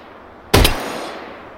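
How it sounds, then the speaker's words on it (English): A single sharp pistol shot fired at a target in a World War I virtual reality game, loud and close, with a short ringing tail fading into quiet. "here I am shooting at more targets"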